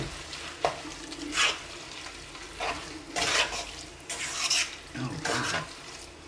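Pasta is stirred in a pot while cooking in Italy: scraping, swishing strokes come in bursts every second or so over a steady bubbling background, with no voices.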